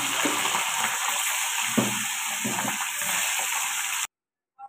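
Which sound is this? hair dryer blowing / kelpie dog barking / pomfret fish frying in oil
pomfret fish frying in oil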